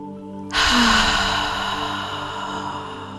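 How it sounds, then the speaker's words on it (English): A single deep, audible breath drawn in during an EFT tapping session, sudden and close, swelling then slowly easing off as a long airy inhale, with no speech. "Deep breath in."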